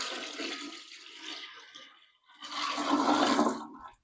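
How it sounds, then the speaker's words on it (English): A bucket of water dumped into a clogged toilet from above, giving a loud rushing splash and gurgle, a short pause, then a second strong surging flush-like wash of water that drains away. "we're going to dump this bucket of water in here and see if that unclogs it"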